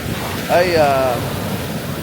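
A strong ocean wave surges in and washes over, swelling loudly for about a second amid steady wind and surf noise on the coast at Bolinao.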